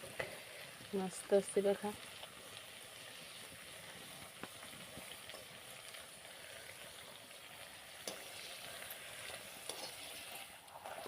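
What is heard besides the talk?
sautéing potato bhaji in a pan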